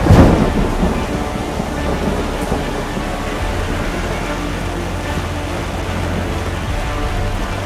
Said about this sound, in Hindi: मुंबई में एक बार फिर तेज मूसलाधार बारिश की शुरुआत हुई है